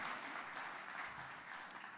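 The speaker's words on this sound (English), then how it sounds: "May I welcome with you with a warm applause" Warm applause from a convention audience welcoming the next guest at a global peace convention plenary, a steady dense wash of clapping that continues evenly and fairly quietly throughout, with no voices over it.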